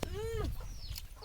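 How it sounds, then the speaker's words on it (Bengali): Small chickens cluck nearby while being fed, a short close series of clucks and squawks with one drawn-out call, with no talk over them. "ছোট মুরগি ছোট মুরগি"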